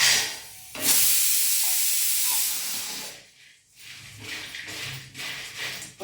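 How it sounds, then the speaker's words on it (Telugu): Vadiyalu, small sun-dried lentil crisps for a Telugu egg curry, fry in hot oil with a loud, steady hiss and crackle that rises and falls in bursts. No one speaks over it. "వడియాలు బాగా ఎర్రగా అయ్యే వరకు వేయించుకోవాలి"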